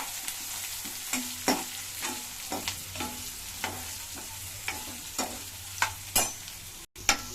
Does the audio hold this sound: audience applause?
no